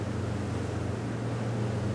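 A steady, droning engine of a 2021 Beneteau Swift Trawler 41 runs continuously at a constant high pitch, loud and close, with no voices over it.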